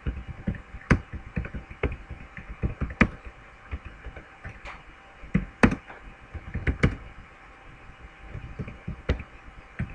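Keys clacking on a computer keyboard in irregular bursts of sharp, fairly close taps, with a steady low background hum and no talking.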